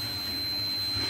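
A steady, piercing electronic tone from a malfunctioning buzzer in a Bosch fridge rings continuously over a faint low hum, heard up close and without voices.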